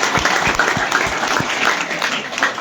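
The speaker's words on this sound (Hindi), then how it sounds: "मेरे लिए बहन को जोरदार तालियां बजा स्वागत करो" A village crowd claps to welcome a national volleyball player, a loose, uneven patter of many hands heard up close and fairly loud throughout.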